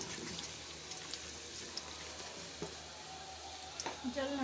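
Whole black peppercorns and cloves roasting in a pan, a faint, continuous frying hiss with a few light clicks of stirring, quiet and low in level.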